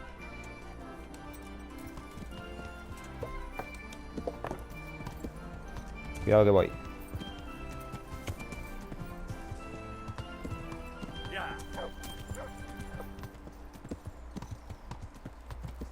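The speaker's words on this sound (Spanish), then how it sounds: "Caballo." Hooves clip-clop steadily as a horse runs in the medieval video game Kingdom Come: Deliverance, a continuous rhythmic beat under game music, with someone speaking briefly and a louder burst of noise midway.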